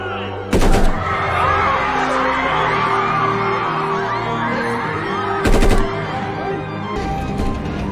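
Two loud bursts of gunfire ring out in a tense TV drama scene, each a brief broadband blast, separated by several seconds over a steady music score with ambient background.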